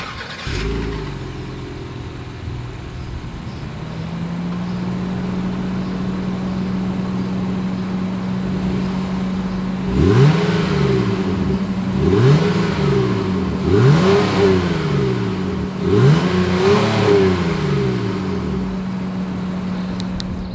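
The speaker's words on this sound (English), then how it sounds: "As always, here is that exhaust clip." A 2021 Honda Pilot SUV's exhaust idles with a deep steady drone, then revs up four times in quick bursts, each swelling and dropping back to idle.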